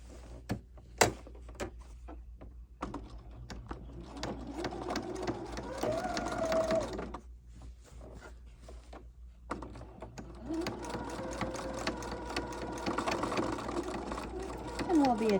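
Sewing machine stitching across the bottom of a tote bag strap along a double seam, running in bursts with short pauses between runs, fairly close and steady under some background noise.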